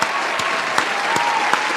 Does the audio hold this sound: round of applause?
yes